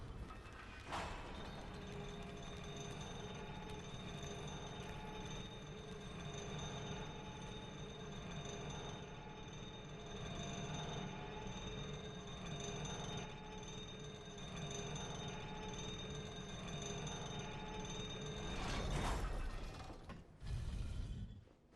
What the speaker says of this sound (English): go into the elevator and take it down